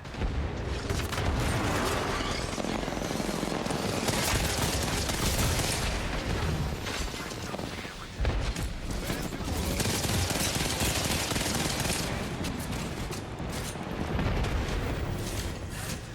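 A grenade explodes amid sustained gunfire in a video game, dense rattling bursts and booms filling the whole stretch at steady loudness, with a brief dip midway.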